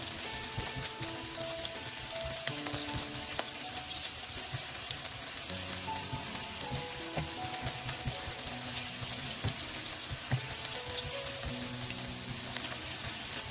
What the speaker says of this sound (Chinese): 八角下锅炒香。